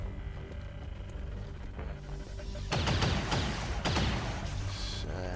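Enemy soldiers open fire in the tactical strategy game XCOM 2: a dense burst of gunshots erupts mid-way, then a second volley, loud over a steady game soundtrack.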